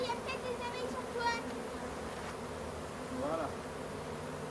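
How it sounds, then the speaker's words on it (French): Honeybees buzz steadily around a beekeeper near an open hive outdoors, a soft continuous hum with the faint whine of individual bees passing close now and then. "il y a peut-être des abeilles sur toi."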